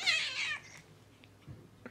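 A cat meows loudly once, close by, with a strained drawn-out cry, followed by faint low sounds and quieter noises.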